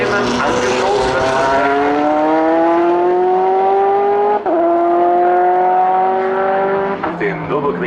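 A 2005 Audi R8 LMP race car engine at a circuit, roaring loud and close as it climbs steadily through the revs in one long pull, briefly dipping at a gear change, then holding high before backing off.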